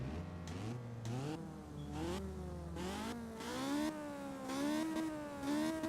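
A 1970 Honda S800 in the Forza Horizon 3 racing game revs repeatedly toward its high redline, several rising whining sweeps with quick drops between them, loud and alone with no talk.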